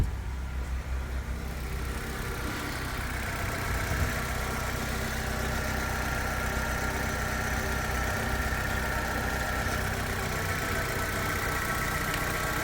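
A 2022 Fiat 500 engine idles steadily and smoothly throughout, a continuous low hum with a faint higher whine, close by and unbroken with no talking.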